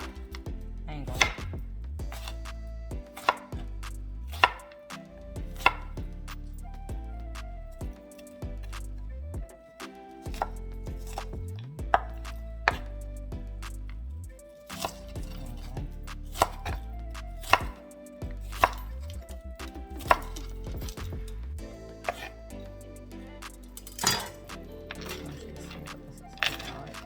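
A knife chops onion on a cutting board, a steady run of crisp, close knocks against the wood repeating rapidly for the whole stretch with no talk.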